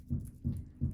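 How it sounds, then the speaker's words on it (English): Three muffled, low thuds land at an even pace, faint and distant: upstairs neighbors pounding on the floor, coming through the ceiling. "this is our neighbors upstairs just pounding something in the floor"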